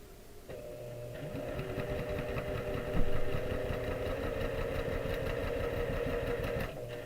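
A sewing machine stitches quilt fabric during a live quilting session, running in a steady, continuous mechanical whir from about half a second to nearly seven seconds, fairly close and even, with no talk over it.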